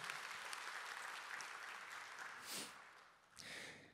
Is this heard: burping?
no